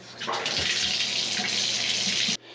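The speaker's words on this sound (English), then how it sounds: "let's drain the hot water out of it." Hot water rushes out while an electric water heater tank is drained, a steady loud hiss of flowing water that runs for about two seconds before stopping abruptly, close up with no voices.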